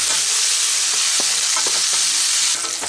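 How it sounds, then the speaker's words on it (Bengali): Sliced onions fry on high heat in oil with turmeric and salt, giving a loud, dense, continuous sizzle close by, broken by a few stirring scrapes. "হলুদ আর লবণ দিয়ে আমি কালিগুলোকে ভেজে নিচ্ছি।"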